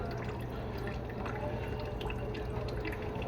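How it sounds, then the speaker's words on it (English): Cooking grease poured out of a pan, a soft continuous trickling and dripping flow of liquid, faint and close, with a low steady hum beneath and no talking. "So I gotta pour out this grease real quick"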